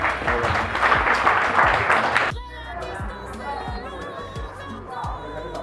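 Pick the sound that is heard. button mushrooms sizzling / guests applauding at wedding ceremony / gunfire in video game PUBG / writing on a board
guests applauding at wedding ceremony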